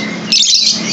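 Lovebird chirping, a loud close burst of high shrill chirps starting partway through over steady background noise.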